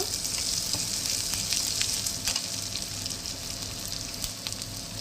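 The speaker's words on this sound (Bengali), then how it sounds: "হিংটা একটু হালকা ভেজে নেব" Asafoetida (hing) frying lightly in a pan with onions and curry leaves for a poha breakfast, a continuous close sizzle with scattered sharp crackles and pops throughout.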